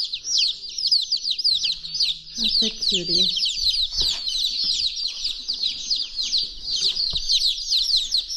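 Young chicks on a homestead peeping continuously in high, rapid chirps, with occasional soft clucks and brief handling noises, while a person speaks softly over them.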